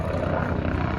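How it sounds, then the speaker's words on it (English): A helicopter flying aerobatic maneuvers at the Central Coast Airshow at Santa Maria Airport gives a brief rumbling roar with a rhythmic low rotor throb, fairly distant and heard on its own. "one of the unique pilots that puts a helicopter through aerobatic maneuvers"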